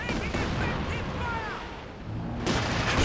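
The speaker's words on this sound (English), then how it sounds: "Barrage into the middle." An artillery barrage in Company of Heroes 2 makes a dense, continuous roar of blasts and rumbling, loud and close throughout, with voices partly heard under it.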